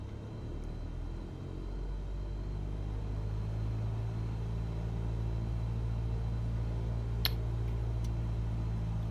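Cessna C172 piston engine held at 1700 RPM in the MSFS2020 simulator, a steady low droning hum throughout with a faint click near the end.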